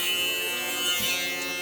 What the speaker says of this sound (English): what I usually do is I get a shaver